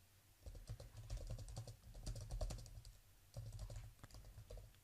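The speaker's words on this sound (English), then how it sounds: "I'm going to type if not," Quiet typing on a computer keyboard while writing Python code, irregular clusters of soft key clicks in short bursts with brief pauses, close and alone.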